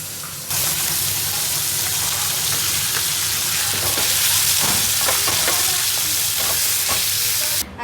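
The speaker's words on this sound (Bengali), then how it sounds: "ওই যে বৈরাগী মাছ ভাজা হচ্ছে" Boiragi fish frying in a pan, a loud, steady sizzle that fills the whole stretch, with faint clinks and stirring scrapes underneath.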